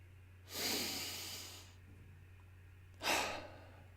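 Two slow, deep diaphragmatic breaths, a long airy inhale followed later by a shorter breath, close to the mic in a quiet room with a low hum.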